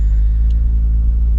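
A turbocharged 2JZ engine in a Lexus IS300, heard from inside the car while driving as a loud, steady low rumble that stays constant with little change in pitch.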